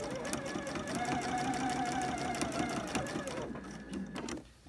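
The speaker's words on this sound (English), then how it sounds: "be quilting all the way up to the line here" A sewing machine quilting along a line stitches in a fast, steady mechanical chatter with a whirring motor tone, close and continuous. It slows and stops near the end.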